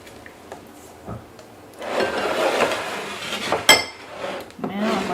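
Zucchini is stirred into chocolate cake batter in a bowl, producing soft wet scraping and clinks of a utensil against the bowl, close and moderately quiet, with a sharp knock near the end.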